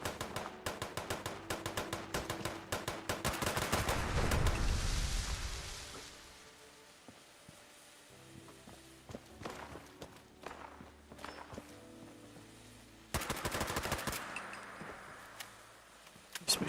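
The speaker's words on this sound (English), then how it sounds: "Some shots there." Gunfire in the video game Fallout 76: a run of sharp, clustered shots opening the stretch, a loud swelling burst in the middle, then scattered quieter pops and a renewed volley near the end, with no talking.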